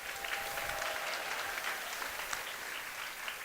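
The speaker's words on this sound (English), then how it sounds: "So give your guys a round of applause for showing up." A large crowd of jigsaw puzzle teams at a national championship gives sustained, dense applause that stays even throughout, with a faint background murmur.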